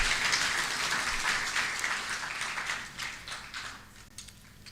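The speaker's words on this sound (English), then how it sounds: "Another round of applause for Professor Verkooyen." An audience at a university partnership forum in Nairobi applauds Professor Verkooyen, with dense clapping from a roomful of people that starts full and gradually thins and fades toward the end.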